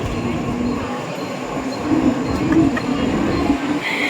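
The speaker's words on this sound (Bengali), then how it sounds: "একটা এসি ট্রেন গেল" An AC train rumbles past at Bandel station in India, a steady rolling roar with rising clatter and brief wheel squeals, heard close on the platform amid background voices.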